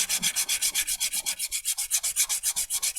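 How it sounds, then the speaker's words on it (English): Sandpaper rubbed back and forth across the front face of a turned wooden piece, giving a fast, even rhythm of close, loud rasping strokes with no talk. "sandpaper just to smooth that front off a bit"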